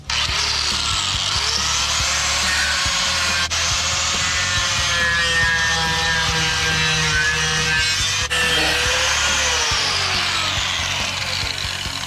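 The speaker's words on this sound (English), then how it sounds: "Right now I am going over it with a wire wheel grinder, and it finishes it off more so it looks more shiny" A wire wheel grinder polishes a rusty steel shield with a loud, continuous whir and harsh abrasive scraping, the pitch wavering as pressure shifts, with two short breaks in contact.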